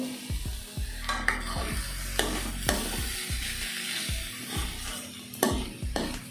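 Onion and grated coconut stir-frying in a pan as raw papaya goes in for a Tamil poriyal, a constant hiss of sizzling oil over repeated low knocks and scrapes of a metal ladle against the pan.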